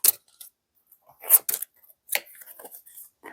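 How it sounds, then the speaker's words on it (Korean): Tarot cards shuffled quickly at close range: a few crisp, papery bursts of flicking cards separated by brief pauses, with no talking. "이번에는 빠른 셔플."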